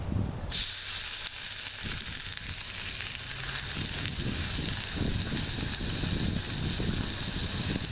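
Steak-umm beef slices hit a hot pan on a camp cook set in a camper van. A loud, steady sizzle bursts in just after the start and hisses on without a break, with light clatter from the pan.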